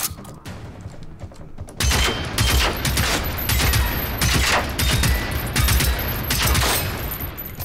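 Sustained gunfire in the video game Generation Zero, loud rapid bursts of shots starting after a quieter opening and continuing steadily, with no talking.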